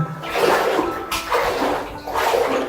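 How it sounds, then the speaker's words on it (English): Water splashes and pours over skin as someone rinses off poison oak outdoors in San Gabriel Canyon, a close, soft running and splattering sound in short surges. "I'm gonna rinse off all that poison oak."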